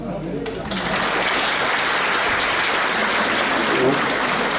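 An indoor audience at a reunion gathering at a lakeside inn bursts into sustained applause, dense steady clapping that starts abruptly and continues loudly throughout.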